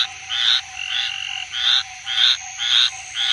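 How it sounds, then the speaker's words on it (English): Green tree frogs in a South Carolina breeding area call loudly and close by, a chorus of repeated nasal croaking notes in an uneven rhythm over a constant background trill of night insects. "There are green tree frogs calling somewhere so close."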